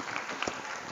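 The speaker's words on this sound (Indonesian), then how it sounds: "Tepuk tangan buat kakak kita hari ini ya." A seminar audience claps for a young speaker in a brief, dense burst of applause that stays close and fairly even throughout.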